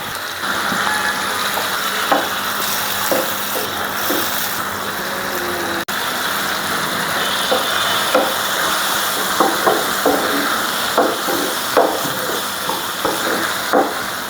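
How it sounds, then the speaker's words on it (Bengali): Spice paste with chilli and turmeric powder and a splash of water cooks down in a pan for shrimp curry: a soft, steady sizzle with repeated spoon scrapes and taps against the pan. "আর একটু পানি দিয়ে আমি মশলাটা ভালোভাবে কষাই নেব"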